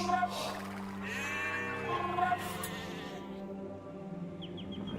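Several sheep bleat in wavering, drawn-out cries over a steady background hum, with a few brief higher chirps near the end.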